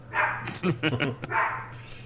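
A small dog, the smallest of three, barks several times in quick succession, loud and close, with short yips between the barks.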